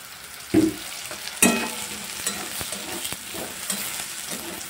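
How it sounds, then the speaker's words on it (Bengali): Soybean chunks with turmeric frying in oil in a pan, a steady soft sizzle broken by a couple of sharp clatters from stirring and several lighter scraping knocks, fairly close with no one speaking. "সয়াবিনগুলোকে সুন্দর করে ভেজে নিতে হবে"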